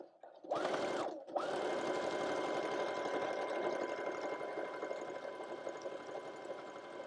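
A sewing machine stitching a leaf pattern onto a fabric page runs in a steady, even whir after a brief start and stop, close and loud.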